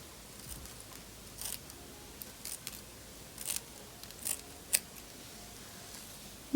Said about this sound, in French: on va couper ce bout de lace là